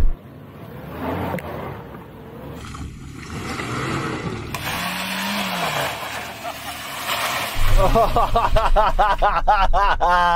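A Suzuki Jimny without a locking diff, its stability control braking the wheels, climbs a steep off-road hill, engine droning and straining and revving harder near the end, with vehicle noise throughout.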